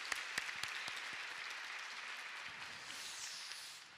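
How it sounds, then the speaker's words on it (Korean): A church congregation gives a quiet, steady round of applause in encouragement, faint and distant, with scattered sharper individual claps standing out in a continuous wash. "우리 유성아 전도사님께 다시 한번 격려의 박수 보내주시면 감사하겠습니다"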